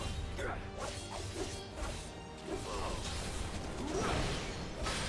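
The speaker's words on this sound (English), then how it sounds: "smashing your blade with Cloud, it never gets old really." Blades slash and clash during Final Fantasy VII combat as Cloud fights a Wrath Hound, with rapid whooshes and metallic hits layered over a dense, loud game soundtrack.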